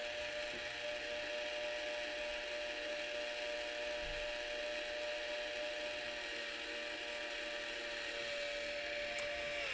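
Clack twin-tank water softener valve shifting its MAV piston during startup: a steady, faint mechanical whir with a constant motor hum and a slight tone change near the end, no talking.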